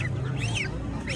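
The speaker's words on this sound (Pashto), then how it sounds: "او دا بکې دي." Ducks quack in short nasal calls, loud and close, at a busy bird market in Kandahar's old city, amid market noise and brief voices.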